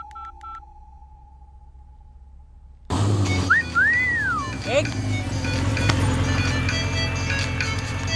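A mobile phone rings with short repeated electronic beeping tones over a quiet background, then a louder scene bursts in with whistling-like tones and busy background noise.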